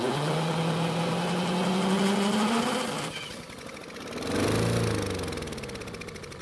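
A small Honda lawn mower engine catches and runs for a few seconds, its steady hum rising in pitch, then dropping off before briefly surging again, loud and close.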